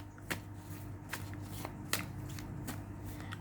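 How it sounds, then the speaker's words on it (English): Tarot cards are shuffled by hand in a quiet room, giving a series of crisp riffling bursts and soft taps spaced irregularly, close and fairly faint. "So I just shuffled for a bit and I'll start your reading."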